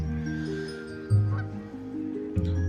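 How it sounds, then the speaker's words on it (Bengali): Swans on a pond in the Meena video game give two short, honking calls over a soft background hum. "এখানে দেখেন রাজহাঁস গোসল করছে পানিতে সাঁতার কাটতেছে"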